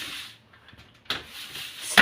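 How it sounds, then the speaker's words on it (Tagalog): A sliding kitchen cabinet door is wiped and moved during cleaning, with a couple of sharp wooden knocks and a scraping slide close by amid quiet rubbing, and no talking. "cover ng cabinet yan. Pinto ng cabinet yan"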